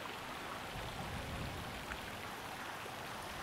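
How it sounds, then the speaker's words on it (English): Water sprays and patters steadily at a Mickey-themed splash pad at a resort by a lake, a dense continuous hiss with no talking. "we have a Mickey splash pad here."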